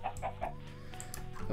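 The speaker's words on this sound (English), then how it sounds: "See another fucking chicken there." A Minecraft chicken gives a few short, soft clucks in quick succession near the start, then fades into a faint game background.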